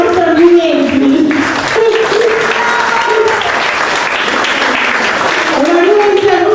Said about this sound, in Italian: facciamo anche un applauso a Giovanni Molinelli